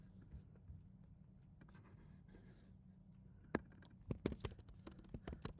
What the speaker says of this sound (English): okay, let's write it down.